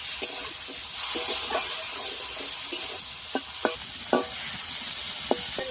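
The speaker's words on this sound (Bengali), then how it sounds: "মাছগুলো ভালো করে ভেজে নেব দিয়ে দেবো লবণ একটু হলুদ গুঁড়ো লবণ হলুদ দিয়ে ভালো করে ভেজে নেব" Fish seasoned with salt and turmeric fries in a pan with oil, giving a loud, continuous sizzling hiss broken by sharp clicks and scrapes of stirring.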